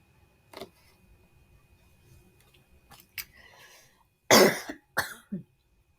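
A person coughs several times in short, sharp bursts, close to the microphone, with quiet gaps in between and no talking.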